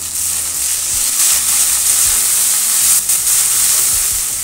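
Masala with tomato frying in a pan for motor ghugni, a loud, steady sizzle with broadband hiss and occasional stirring scrapes, continuous and close throughout with no voices.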